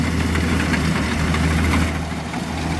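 A Kubota DC70G Pro combine harvester, stock apart from an added auger, idles loudly and close by with a steady, rumbling drone that eases slightly near the end, with no talk.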